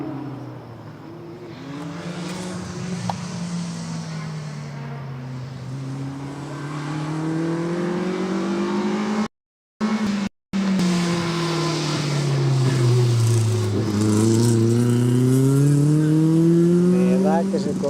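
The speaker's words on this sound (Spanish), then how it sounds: "Suena este coche." A rally car at the 2023 Rallye de Pontevedra, Sanxenxo stage, revs hard nearby, its engine note repeatedly climbing and falling in pitch, broken by two brief dropouts, with faint background voices.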